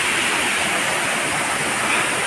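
Water rushes steadily at Ethamanuguda waterfall in dense woodland, a loud, continuous broadband roar with no pauses or other sounds.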